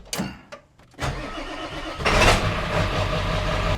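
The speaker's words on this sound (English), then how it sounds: "So you'll see when I rev it." A Ford 7.3 Power Stroke diesel in an older F250 truck, suspected of injector trouble, cranks with a few clattering bursts, catches and then revs up to a rough, loud idle up close.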